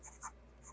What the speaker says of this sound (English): The last writing sample is done on 20-pound copy paper.